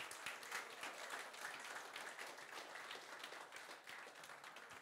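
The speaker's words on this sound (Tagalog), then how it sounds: "pumalakpak ng malakas" A church congregation applauds loudly together, a continuous, fairly distant wash of many hands clapping that holds steady throughout with no clear speech.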